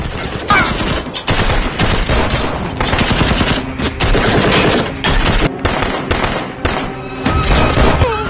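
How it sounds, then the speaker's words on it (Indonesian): Loud, sustained bursts of rapid gunfire at a car rattle almost continuously, with short gaps between volleys and heavy booming impacts. "Teroris juga langsung memberondong peluru ke mobil itu."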